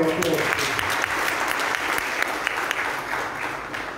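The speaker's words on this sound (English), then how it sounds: "Can we give Atlas Mara another big round of applause?" An outdoor crowd at a fish harvesting cooperative launch event claps for a guest, a continuous, moderately loud patter of many hands that holds steady and slightly fades toward the end.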